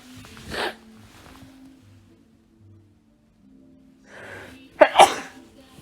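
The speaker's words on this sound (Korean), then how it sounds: "재채기를 합니다. 감기는 아니고요." Two loud, close sneezes from a man whose nose is itchy from rhinitis, a softer one first and then a sharp double burst, with quiet breathing and rustling between them.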